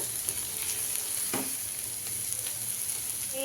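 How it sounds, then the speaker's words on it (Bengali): Sliced bitter gourd (karela) frying in oil in a pan, a steady close hiss of sizzling with faint scattered pops and a brief stir, no voices. "আমি করলা ভাজিটা বসিয়ে দিয়েছি করলা ভাজিটাও করে নিচ্ছি"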